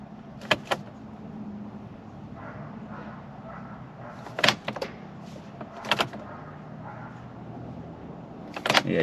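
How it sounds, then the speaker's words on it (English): A low electric fuel pump hum from a 2003 Pontiac Grand Am priming after a fuel sending unit replacement runs steadily, broken by several sharp mechanical clicks and clunks spaced a few seconds apart. "you can hear the fuel pump getting deeper, so the air's getting out."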